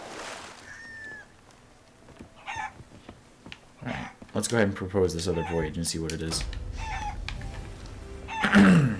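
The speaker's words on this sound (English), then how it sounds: "2 red speckled chickens." Red speckled chickens cluck in the pirate video game Sea of Thieves, with short clucking bursts scattered through the scene while someone talks over them and a louder squawk near the end.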